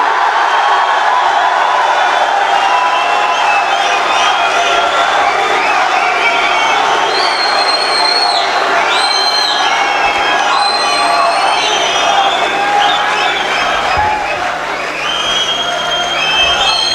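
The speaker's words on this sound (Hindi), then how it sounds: "भरपूर तालियों में इस्तकबाल कीजिएगा" A packed poetry-recital audience welcoming a poet with sustained loud applause, cheering and whoops from many people, continuous and close throughout.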